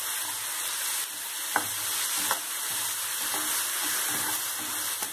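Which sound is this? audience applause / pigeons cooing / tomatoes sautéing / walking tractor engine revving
tomatoes sautéing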